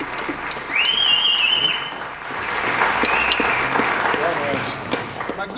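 Audience applause at a Latin jazz concert for a visiting performer, a moderate wash of clapping with whistles rising over it and voices mingled in.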